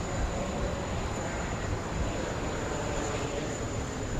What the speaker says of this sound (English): We have a heavy on final approach. I believe it's Etihad.